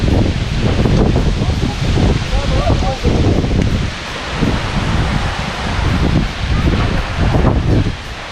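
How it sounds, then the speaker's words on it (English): Strong wind gusts by the sea roar into the microphone, heavy buffeting and rustling in uneven surges, close and loud with people talking underneath. "Current strong guys, even the wind."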